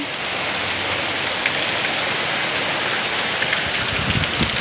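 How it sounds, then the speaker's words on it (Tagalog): Heavy typhoon rain in Cabugao, Ilocos Sur pours steadily in a dense, continuous hiss, with occasional louder drops spattering on a nearby surface. "grabe lakas ng ulan"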